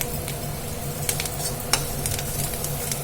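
A tempering with betel leaves fries in a pan, a steady sizzle with light stirring and a couple of sharp utensil clicks against the pan, close and with no talking.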